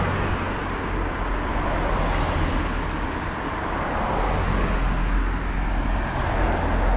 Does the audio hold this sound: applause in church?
no